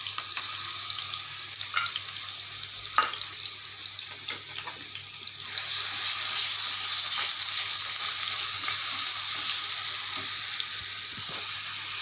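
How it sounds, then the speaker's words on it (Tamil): Sapota (chikoo) pulp sautéing in ghee in a pan for halwa, giving a steady, close hiss of frying that grows louder and denser about halfway through, with a few faint clinks and no talking. "இது வந்து சப்போட்டாவை நெய்யில் வதக்கிக்கணும்"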